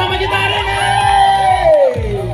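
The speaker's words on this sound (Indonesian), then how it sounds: "Tepuk tangan untuk pasangan pertama kita hari ini." A live comedy-show crowd cheers and whoops loudly over a thumping music beat as a couple is called to the stage. The shouts swell and rise near the end.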